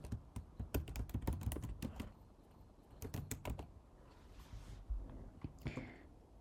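Typing on a computer keyboard while adding a text title in Premiere Pro, with bursts of quick, close key clicks separated by short pauses and a quieter stretch near the end.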